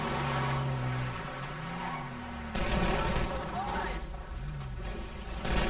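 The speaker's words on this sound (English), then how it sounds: "I pull out my gun and fire a shot at the ground near him." Gunfire in GTA 5 as a shot is fired at the ground, sharp reports cracking over a droning engine and game music that carry on throughout, loud and close.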